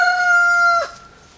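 Rooster crowing once, close and loud, a drawn-out tonal call that ends abruptly with a short fading tail, followed by quiet.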